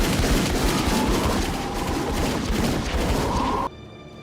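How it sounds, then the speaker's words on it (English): Gunfire in The Matrix rooftop scene: a dense, continuous roar of shots and noise that cuts off abruptly near the end, leaving quiet. "Neo dodging bullets on that rooftop, as time slows down"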